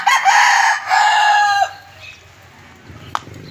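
A young brood cock rooster, about eight months old and freshly bathed, crows loudly and close by in a backyard, one long strained call lasting over a second. It then falls quiet apart from a brief sharp click near the end.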